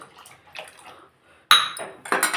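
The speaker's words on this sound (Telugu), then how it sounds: "ఈ గ్లాస్ నీళ్ళు పోస్తున్నా" Water poured from a glass into a cooking pot: faint clinks of utensils, a brief quiet, then two loud bursts of splashing and pouring close by.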